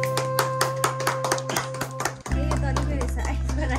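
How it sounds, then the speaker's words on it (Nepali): People clap together to celebrate a new baby at a small family cake-cutting, with rapid irregular claps under talk before a sudden thump, after which a steady hum and voices continue. "ल ताली बजाउँछ हामी सबैले"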